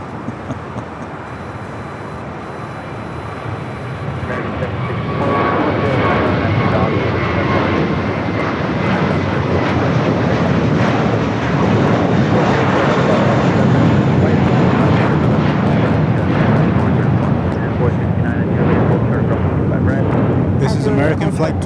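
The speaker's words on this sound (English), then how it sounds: "This is American Flight 12 going to Boston on an Airbus A321." An Airbus A321 jet airliner on its takeoff roll at Los Angeles airport, a broad engine roar that swells after a few seconds and holds loud and steady, with people talking faintly underneath.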